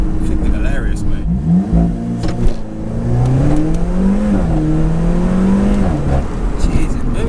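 Alfa Romeo 4C with its 240 bhp 1.7-litre engine accelerating hard on the road, the engine note climbing steadily and droning loud throughout, with people talking over it.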